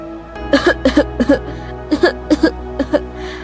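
Repeated short coughs, mostly in quick pairs, close and fairly loud, over a steady humming background tone.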